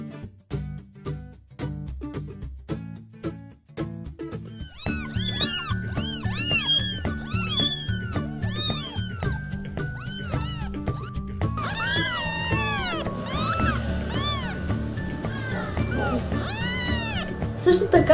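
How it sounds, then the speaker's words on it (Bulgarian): Small kittens meow repeatedly in a warm room by a fireplace, their high calls rising over continuous background music with a steady beat. "Родиха ни се малки котенца, които всъщност се радват на топлата камина от татък."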